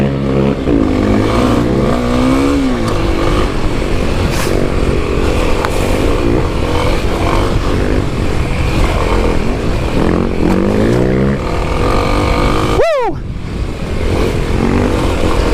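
Kawasaki KLX300 dirt bike, a 2021 model, ridden off road over trails and logs, its single-cylinder engine revving and dropping continuously up close, with a sharp throttle blip near the end.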